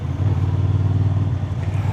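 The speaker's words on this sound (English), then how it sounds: "This bike needs some revs, and then the fun is starting." A Honda Transalp 750 motorcycle engine runs at steady, loud revs close by, a continuous low drone with no voices over it.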